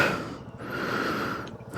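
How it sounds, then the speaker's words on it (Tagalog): A person breathing hard and heavy after a sideways fall from a bicycle on an uphill ride through nature, with gasping, snorting breaths close to the microphone and no speech. "Kitang kita naman yung hingal sa akin dahil doon sa pagkaka-fall sideways"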